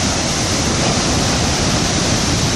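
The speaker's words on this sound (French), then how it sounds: "Quelques belles vagues." Ocean waves break against a harbour on Réunion, a loud, continuous roar of surf and spray with no pauses or voices.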